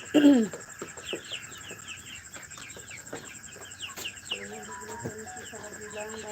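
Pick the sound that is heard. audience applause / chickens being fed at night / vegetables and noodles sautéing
chickens being fed at night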